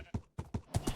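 Hoofbeats of a horse in the Minecraft video game clip-clop in a quick, uneven run of four or five thuds within a second, close and moderately loud.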